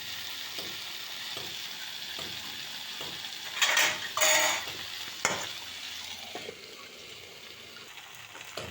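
Pui shak and mussels stir-fried with salt and turmeric for a Bengali chorchori: a steady frying sizzle under repeated spatula scrapes and clinks against the pan, with a louder burst of hissing midway.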